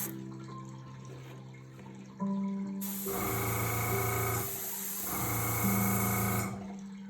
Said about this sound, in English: These airbrush guns are a little powerful, so they can have a tendency to blow your cookie